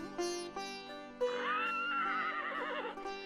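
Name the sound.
horse neighing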